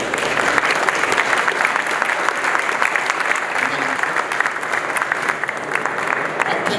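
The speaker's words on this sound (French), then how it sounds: "On peut les applaudir aussi." An audience at an awards ceremony for installers applauds the winners as they join the stage, a loud, sustained patter of many hands clapping with some crowd murmur mixed in.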